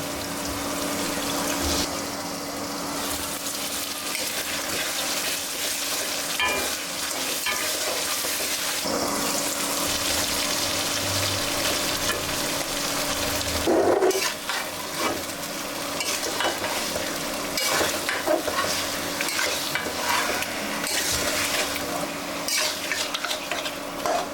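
Spices and meat being stirred and sautéed in a hot pan for several minutes, with steady sizzling frying and scraping of a spatula against the pan, continuous and close with no talking.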